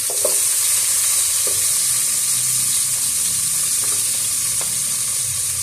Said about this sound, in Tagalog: ilagay na kaagad natin ang ating sibuyas